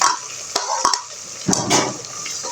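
Tomatoes stirred into biryani masala with green chillies in a pan, a few sharp spoon scrapes and clinks over a soft, steady sizzle of frying.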